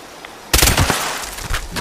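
Gunfire in the video game Fallout 76: after a quiet half second, a sudden loud burst of rapid shots erupts, followed by a sustained rattling stretch and another sharp volley near the end.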